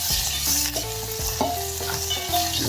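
Gunda sambharo with gram flour, turmeric and salt is stirred in a pan over a low flame, giving steady scraping and soft sizzling throughout with no voices.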